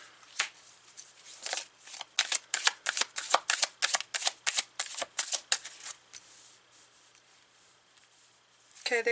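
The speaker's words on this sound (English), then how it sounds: "I felt the need to continue to shuffle" Tarot cards being shuffled by hand in a quick run of crisp riffling bursts, about a dozen in steady rhythm, close and clear, then a pause before a final flurry.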